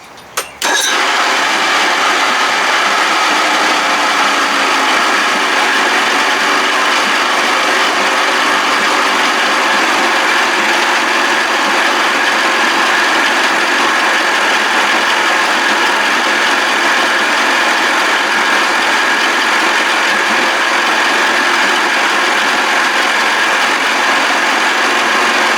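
Steady mechanical clatter with a ratcheting, gear-like texture runs continuously while parts are tightened on a 1979 Evinrude 55 hp outboard motor, loud and close, with no talking.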